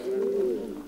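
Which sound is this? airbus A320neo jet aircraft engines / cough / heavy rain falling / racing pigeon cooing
racing pigeon cooing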